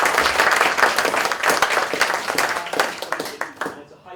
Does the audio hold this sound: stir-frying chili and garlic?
no